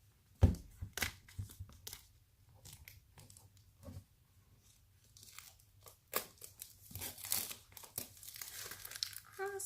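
Shrink wrap crinkles and tears in bursts as an oracle card deck is unwrapped by hand, close and crisp, with quiet pauses between the rustling handfuls.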